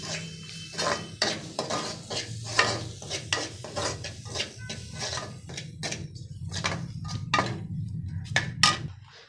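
Potato masala for samosas being stirred and mixed in a pan with coarse chilli, a run of close scraping and clinking strokes over a soft sizzle, no talking.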